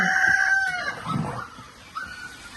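A rooster crows loudly and close, followed by softer clucking from hens nearby at a home in Tamil Nadu.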